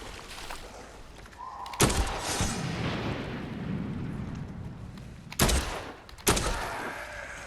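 Gunfire in the zombie game Dead Island 2, a few sharp loud shots spaced apart over a steady game background rumble, with no talk.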